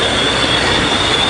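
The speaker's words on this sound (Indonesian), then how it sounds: "Ya, ada kereta di belakang." A train passes behind cyclists on an early-morning ride, loud and close, with a continuous roar of rolling rail cars and a steady high wheel squeal throughout.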